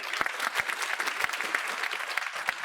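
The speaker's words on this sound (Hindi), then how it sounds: "अपने लिए खूब जोरदार तालियां।" An audience at a Chauri Chaura martyrs' day centenary ceremony claps steadily, a dense patter of applause from a sizeable crowd without cheering.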